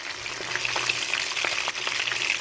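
Lahori masala fish frying in hot oil, a steady close crackling sizzle with scattered sharper pops throughout, no voices.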